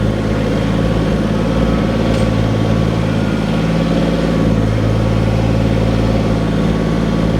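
A farm tractor engine idles steadily after forks have been fitted, a loud, constant low rumble close by with a slight rise in revs, running alone without talk.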